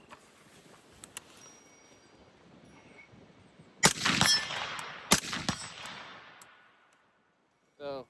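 Rapid AR rifle shots from a Geissele URGI upper ring off a small steel silhouette target at 100 yards, two sharp loud bursts with clanging impacts, followed by a brief electronic chirp near the end.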